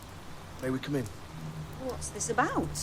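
Rain falls steadily outside a house as a constant hiss beneath a conversation at the doorway, with several voices talking over it throughout.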